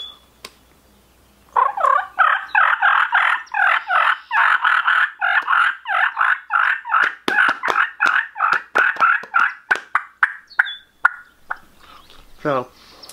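Turkey call imitating aggravated, fighting turkeys: a rapid, continuous run of loud, raspy, purring yelps and cutts, blown hard and close, ending with a few sharper high notes.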